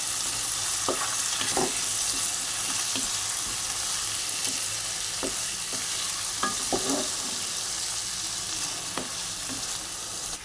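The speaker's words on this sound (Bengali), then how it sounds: "এবার আমি ভেজে রাখা চিংড়ি মাছগুলো এর মধ্যে আমি ঢেলে দিলাম" Fried shrimp with turmeric and chili powder is stirred in a hot pan. A steady oil sizzle runs throughout, with occasional spoon scrapes and clinks against the pan and no talking.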